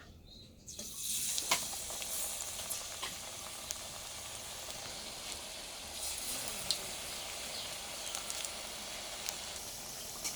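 Cod fritters (acras) fry in hot oil with a steady, close crackling sizzle that runs throughout, sharp pops standing out now and then.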